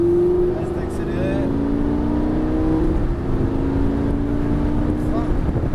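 A Lamborghini Gallardo engine is held at steady high revs, a loud, sustained close-up drone with a slight wavering pitch, while a voice talks over it.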